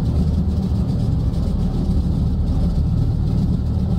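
Twin piston engines of a Twin Beech warm up in a flight simulator, a steady, loud, droning rumble that holds evenly throughout with no talk over it.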